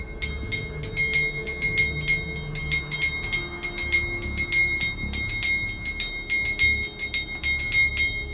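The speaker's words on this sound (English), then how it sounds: "if you heard that bell, it could affect you" A small bell from a dybbuk box is rung in rapid bursts of bright jingling strokes, loud and close, with short pauses between the clusters.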